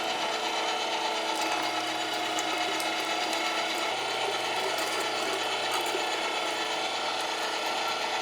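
A meat grinder with a foot pedal churns frozen meat and jalapeños into coarse sausage grind, giving a steady, continuous mechanical grinding and rasping whir with faint clicks throughout.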